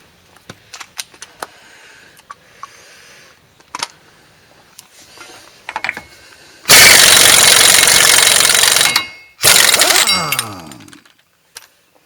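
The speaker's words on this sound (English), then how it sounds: "you want to take that big nut off. That's your axle nut, CV axle nut." Removing a 35 mm CV axle nut with a big socket on a 4WD Chevrolet Silverado during a wheel bearing hub replacement: scattered clanks and taps, then two loud sustained bursts of an impact wrench, the second trailing off.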